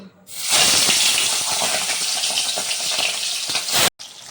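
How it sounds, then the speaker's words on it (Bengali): Tangra fish hit hot mustard oil in a wok and erupt into a loud, steady sizzle and hiss that runs unbroken for several seconds before cutting off abruptly. "ওই কড়াইতে আরও কিছুটা সর্ষের তেল দিয়েছি আর এখন আমি মাছগুলো ভেজে নেব"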